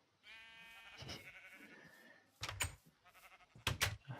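Sheep in a video game giving several wavering bleats, one drawn out and a few sharp bursts later, fairly close against a quiet background.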